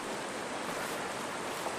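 Creek water rushing steadily through the Cube creek water extraction device, a continuous broadband wash with no breaks and no voices.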